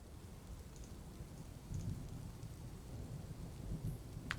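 Steady rain falls in the video game Dwarf Fortress, a soft continuous hiss with a low rumble of distant thunder underneath, holding an even level throughout with no voices.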